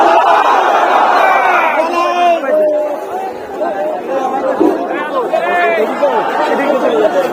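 A large crowd at a political rally chanting the takbir together, a dense mass of overlapping voices that rises and swells in waves and holds steady throughout.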